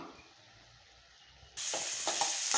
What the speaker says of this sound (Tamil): இங்கே வெங்காயம் வதங்கிட்டு இருக்கும்போதே இதுக்கும் கொஞ்சமாக நம்ம மஞ்சத்தூள் சேர்த்துட்டு வதக்கி விட்டுக்கலாம்